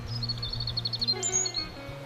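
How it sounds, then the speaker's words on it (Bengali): Goldcrest song: thin, very high-pitched chirps and trills from a small bird, faint over a low steady background hum, with a brief brighter phrase midway. "এটি হলো গোল্ড ক্রেস্ট।"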